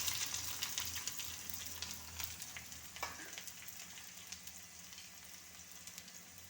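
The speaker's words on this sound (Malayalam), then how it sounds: "ഇപ്പോൾ നമുക്ക് ഈ സവാള ഒന്ന് വഴണ്ട് വരണം" Onion sizzling in hot oil with garlic, green chilli and curry leaves in a pan, a steady close crackle with a brief stir scrape partway through, and no talking.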